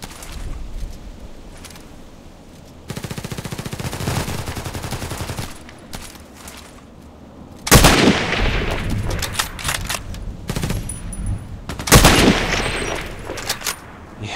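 A Mosin-Nagant sniper rifle fires in the shooter game Contract Wars: loud, cracking shots with ringing tails, separated by stretches of mechanical clatter and steady background noise, with no speech.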